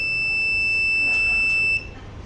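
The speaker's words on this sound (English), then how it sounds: "So while sending SMS also, we will get the buzzer alert." A piercing, steady electronic buzzer tone from a Raspberry Pi-based blind stick sounds continuously, then cuts off abruptly near the end, leaving quieter background noise.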